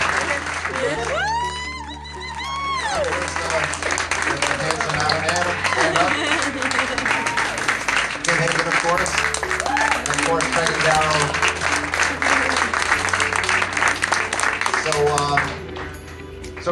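Audience applause at a golf tournament charity event fills the room under someone speaking over a microphone, steady clapping running beneath the talk for most of the stretch.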